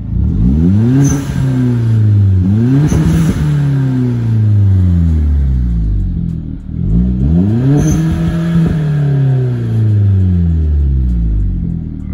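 A 2011 Hyundai Genesis Coupe 2.0T turbocharged engine, warmed up, revving loudly and close up in repeated rising sweeps, each climbing then dropping back, with about three distinct rev pulls.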